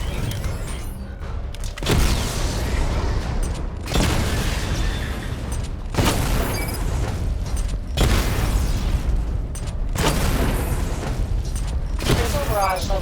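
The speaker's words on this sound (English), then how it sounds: "Charge the missile barrage to level 2 to destroy up to 4 targets at once" Batman: Arkham Knight missile barrage explosions roll out as repeated heavy booms in broad, sustained bursts, several in succession with brief gaps, under a spoken voice.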